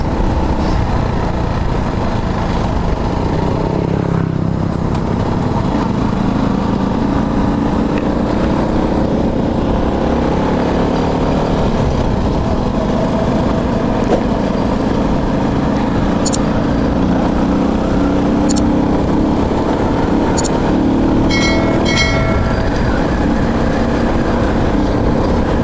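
A motorcycle engine strains uphill in second gear while carrying two riders, a loud, continuous laboring drone with wind rush that holds steady for over twenty seconds.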